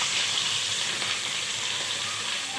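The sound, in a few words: chopped onions sizzling as they fry in hot oil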